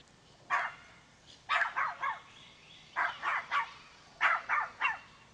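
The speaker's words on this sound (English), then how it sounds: "Video footage of a dog." A small black-and-white dog barks in short bursts, about ten sharp yips and barks grouped in clusters of two and three, fairly close, loud and clear over a quiet room.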